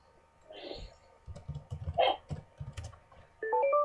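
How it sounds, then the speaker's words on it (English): Quick, uneven keyboard clicks from someone typing on a computer keyboard during an online drawing game, with scattered louder taps and other small sounds mixed in, brief voices early on, and a short tonal chime near the end. "You can hear Tristan typing. Smashing his keyboard."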